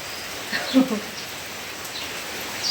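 Steady monsoon rain falls outside a house in the evening, a soft, even hiss that stays faint throughout with a few brief louder spots near the start.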